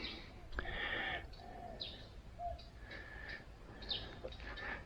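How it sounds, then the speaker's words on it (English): Wild birds call in a quiet garden planted with sculpted architectural trees, faint chirps and short whistled notes scattered over a soft outdoor hiss, distant and sparse. "Listen to the wild birds."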